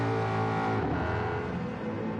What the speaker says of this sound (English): Listen to that Mustang.